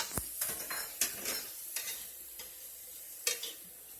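A vegetable mix with carrots stir-frying in a pan for pork lo mein, with scraping and clattering stirs and light clinks over a steady sizzle, close and moderately loud, with no talking.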